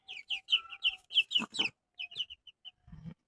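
Young chickens, bought as hens but turning out to be males, cluck in a quick series of short, sharp, close calls, then pause briefly before a few softer clucks, with no talking.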